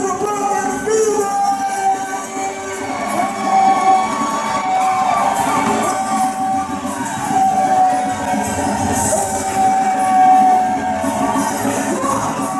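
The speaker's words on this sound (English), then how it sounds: "Keep clapping, my brothers." A concert crowd claps and cheers in a dense, continuous wash, with scattered shouts and whoops rising above the rhythmic applause for nearly thirteen seconds.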